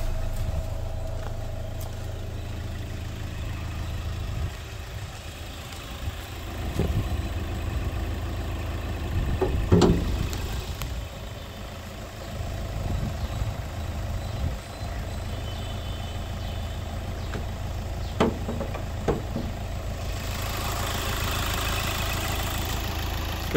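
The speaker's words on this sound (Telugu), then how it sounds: "సింగిల్ సెల్ఫ్కి ఇంజన్ అనేది స్టార్ట్ అయిపోయింది." A 2018 Hyundai Verna Fluidic SX (O) diesel engine idling after a push-button start, a steady low rumble nearby with a few brief clicks and knocks over roughly twenty seconds.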